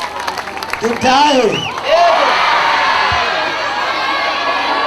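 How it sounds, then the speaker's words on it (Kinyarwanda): At a prayer gathering for Burundi, a crowd erupts after a few loud shouting voices, then settles into a dense, sustained roar of cheering and clapping. "amashyi menshi"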